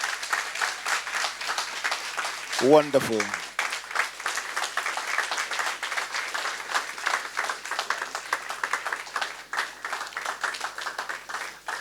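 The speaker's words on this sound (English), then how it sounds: "Let the applause reflect our appreciation." Steady audience applause fills a lecture hall after a talk, continuous and fairly close, with a brief spoken exclamation early on.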